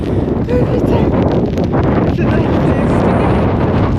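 Strong, icy wind buffets the microphone in a loud, continuous roar with gusting swells and rustling, while rain falls; a voice is faintly heard in the mix.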